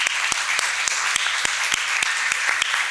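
An audience applauds at an academic presentation session, with a steady wash of clapping and one nearby pair of hands beating a regular rhythm over it.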